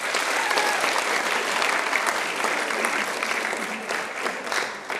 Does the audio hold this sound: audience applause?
yes